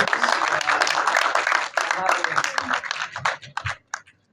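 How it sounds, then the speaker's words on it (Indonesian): Brisk applause for a guest at a film company's launch-event press conference, loud and dense at first, then thinning into scattered individual claps that die away near the end. "Tepuk tangan dong untuk Om Dim."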